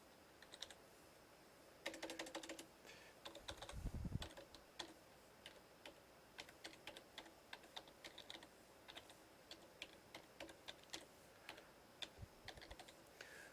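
Computer keyboard typing, with bursts of quick, irregular keystrokes running close and clear throughout, with no voices.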